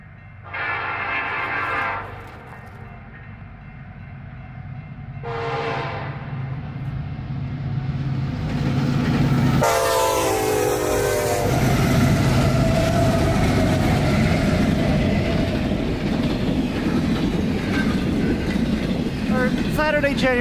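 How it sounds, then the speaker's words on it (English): A Union Pacific hotshot freight train heading from Chicago to Portland sounds its horn in a few loud blasts as it nears, then roars by westbound through Weiser with heavy, sustained rumble. "Union Pacific's hotshot ZG2BR from Chicago, Illinois to Portland, Oregon flies westbound through Weiser."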